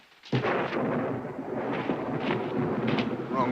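Thunder bursts in suddenly and rolls on as a loud, sustained rumble with several swelling peaks, heavy and continuous with no voices over it.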